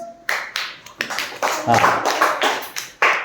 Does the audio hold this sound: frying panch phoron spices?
no